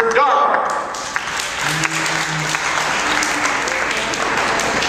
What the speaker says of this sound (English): could I please hear applause for Mr. Darwin?